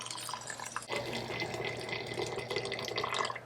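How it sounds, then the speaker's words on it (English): Cooking liquid pours into a pot in a home kitchen, a steady soft splashing stream with faint bubbling, close and continuous, with no voices over it. "So I'm gonna put the rest of the liquid in here."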